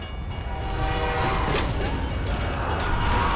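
A train in a Call of Duty Zombies map rumbles loudly and continuously with mechanical clatter and a faint horn-like tone, a dense, close roar with no break.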